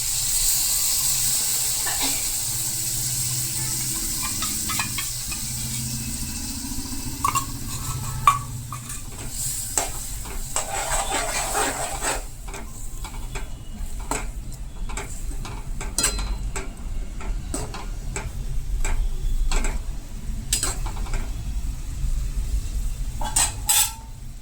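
Yogurt stirred into softened green chillies in a pan for a spicy chilli curry, with a steady low sizzle and intermittent spoon scrapes and taps against the vessel, close and continuous over a long stretch.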